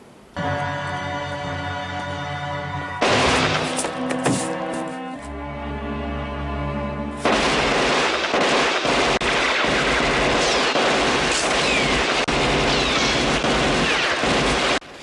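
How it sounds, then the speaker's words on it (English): Rapid automatic gunfire from a shootout in the 1988 action-horror film Dead Heat, loud and continuous bursts with blasts and crashes layered over dramatic music, no talking. "Roger continues to shoot his way through the building Schwarzenegger style until he reaches the room."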